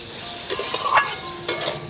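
Taro stalks and potatoes frying in a pan, with a steady close sizzle and a few louder stirring scrapes at regular intervals.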